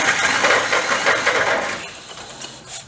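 A barn-find 1930 Plymouth rumble seat car's stock engine runs just after starting, a loud, close, rough idle that fades slightly toward the end.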